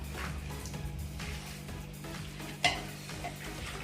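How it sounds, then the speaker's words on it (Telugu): Ginger paste stirred into a biryani masala in a pan, with a soft continuous sizzle and scraping spoon strokes, one sharper clink near the end, steady and close. "అల్లం పేస్ట్ వేసి కలుపుకున్నాను ఇలా"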